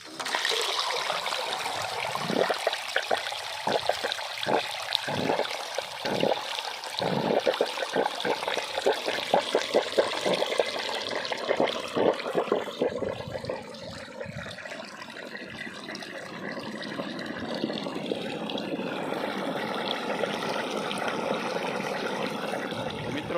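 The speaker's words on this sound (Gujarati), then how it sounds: "આવી ગયો પાણી" Pumped water gushes and splashes from a pipe in irregular surges at first, then settles into a steady rushing flow, fairly close and loud.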